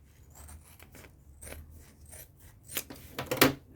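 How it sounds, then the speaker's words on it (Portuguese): Scissors snip off leftover yarn close to the seam of a small crochet clutch bag, a few quiet close cuts that grow slightly louder near the end, with no voices. "Vou cortar até o fim,"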